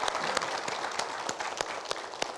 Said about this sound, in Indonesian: Kita berikan tepuk tangan untuk Mbak Christine.